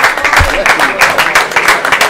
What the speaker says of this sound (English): People is clapping